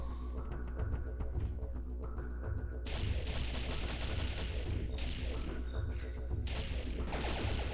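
Video game gunfire aimed at a target crackles in rapid, dense bursts like machine-gun fire over a steady low rumble, loud and continuous through the whole stretch, with no talking.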